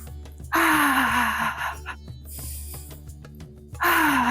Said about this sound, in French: Et on inspire, on expire.